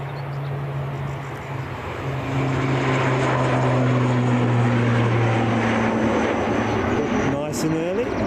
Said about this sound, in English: As we watch this outgoing Aer Lingus ATR 72 off to Belfast.